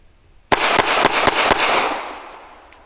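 Rapid string of CZ Shadow 2 pistol shots firing 124 grain Blazer ammunition at a shooting range, about six sharp cracks in quick succession, loud and close, with reverberant tails fading after the last shot.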